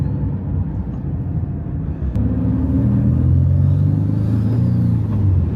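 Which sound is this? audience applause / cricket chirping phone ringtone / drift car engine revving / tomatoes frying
drift car engine revving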